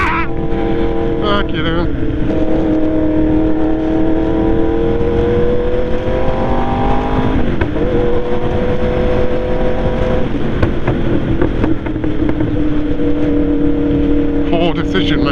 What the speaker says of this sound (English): Sounds like a fucking Honda.